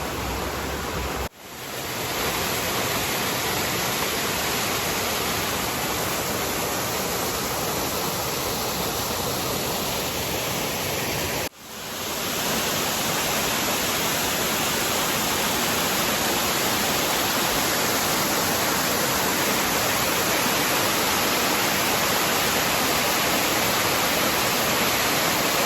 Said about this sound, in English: Another beautiful waterfall up above the previous one.